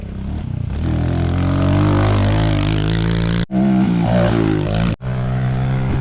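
A pit bike engine revs hard and accelerates, a loud, close, buzzing roar with rising pitch sweeps, cut by two brief drops in throttle near the end.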